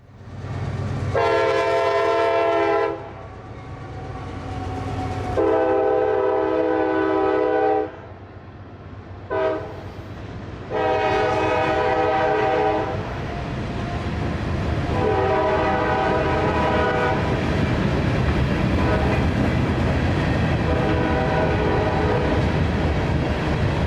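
Freight train M442 rolls past northbound toward Waycross at Folkston, Georgia, with YN2 leading the lash-up, sounding several long horn blasts in a row before the steady loud roar and rumble of wagons passing close by.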